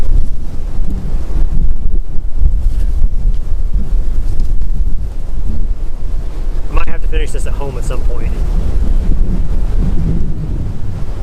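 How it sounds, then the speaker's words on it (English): Strong wind gusts roar against the microphone in a constant rumbling blast, while someone speaks briefly partway through. "Big wind gust."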